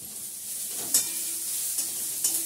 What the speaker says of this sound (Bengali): পেঁয়াজ দিয়েছি, আমি জিরে ফোড়ন দেবো।